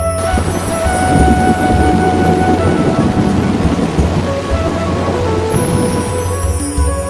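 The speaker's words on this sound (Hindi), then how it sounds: "फिर उसका सामना हुआ मूसलाधार वर्षा से।" Torrential downpour with thunder, a dense, loud wash of heavy rain with low rumbling underneath that swells and recedes steadily throughout, with no voices.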